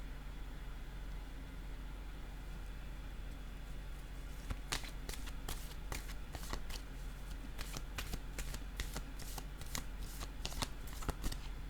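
Playing cards are shuffled and handled up close, a quiet run of crisp riffling snaps in bursts after a hushed background, with no talk.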